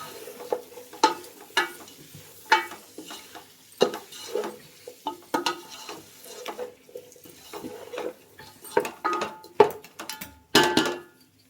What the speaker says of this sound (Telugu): ఇవి ఒక 5 నిమిషాలు ఆయిల్లో ఫ్రై కావాలా, కొంచెం పచ్చిదనం పోవాలా